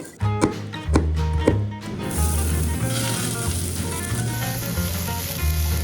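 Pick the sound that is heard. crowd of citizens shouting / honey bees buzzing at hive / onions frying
onions frying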